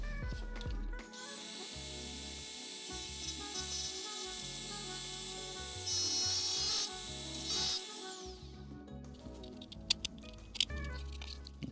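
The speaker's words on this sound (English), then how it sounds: "We're gonna grind that off." A cutting or grinding tool works through a part during a backup camera install on a supercharged W203 Mercedes C-Class, with a steady high whine and several louder bursts from biting into the material, close and loud.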